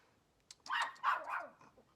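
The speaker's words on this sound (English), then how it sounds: "Sophie, why you barking like that for in the video?" A dog gives two or three short, fairly quiet barks close by in a quiet indoor room, with a light click or two before them.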